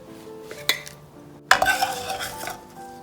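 Amla pickle is spooned out into a special pot, with scattered clinks and scrapes of a metal spoon against the vessel, a sharp knock followed by a busy run of stirring and scraping, close and fairly loud.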